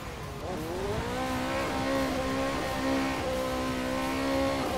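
A BMW drifting in a racing video game revs and whines through rising and falling gear changes, with faint tire squeal, steady and fairly close, no talking.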